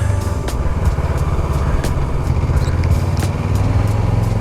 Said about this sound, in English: There's a big truck coming.